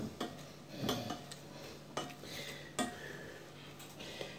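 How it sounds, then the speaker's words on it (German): Boiled potatoes being mashed with a potato masher in a kitchen pot, a few quiet irregular thumps and soft metallic clinks against the pot, close and faint, no voices. "Und hier habe ich einen Stampfer, die werde ich jetzt einfach stampfen."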